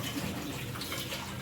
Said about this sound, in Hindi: ये पानी नलके से गंदा आ रहा है